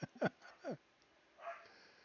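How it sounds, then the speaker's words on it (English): A young puppy, roughly two months old, yips and barks in a quick cluster of sharp, high barks while playing with an older dog, followed by a softer whine, faint and off in the background. "you can probably hear him barking in the background"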